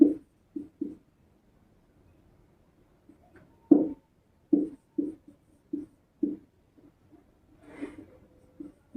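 Chalk or marker strokes on a classroom board during a Hindi maths lesson on number systems, a series of short scratchy taps and strokes in irregular bursts, fairly close, with no talk over them.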